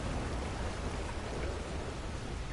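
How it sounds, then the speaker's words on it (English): Rain falls steadily in Red Dead Online, a soft, even patter of drops on the ground with a faint distant rumble beneath, no voices. "I love the rain in this thing."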